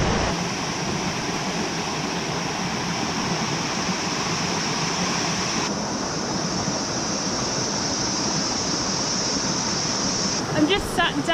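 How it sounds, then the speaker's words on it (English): Waterfall in a national park in New South Wales roars as a dense, constant rush of water, heard up close from its ledge without pause. "I'm just sat down on kind of the ledge of the waterfall"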